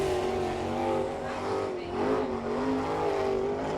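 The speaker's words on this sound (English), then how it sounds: "Brian Ellenberger qualifying right now in car number 20 from Butler" Sprint car engine at full throttle on a qualifying lap at Attica, Ohio, a steady loud roar with shifting pitch as the car circles the dirt track, with a commentator's voice partly over it.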